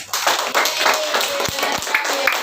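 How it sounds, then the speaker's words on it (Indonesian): Classroom applause for a student group after a presentation, a burst of many hands clapping steadily and fairly close throughout, with faint voices mixed in. "tepuk tangan untuk kelompok Al-Qayyum"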